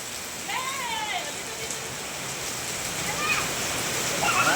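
Heavy rain pours down in a loud, steady hiss, with a few faint voices calling out beneath it.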